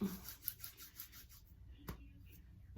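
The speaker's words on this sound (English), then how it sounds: "So I just kind of rub it in my hands really good." Sticky, fibrous texturizing hair product rubbed between the palms, a quick series of soft rhythmic rubbing strokes, close and quiet, tapering off after a second or so.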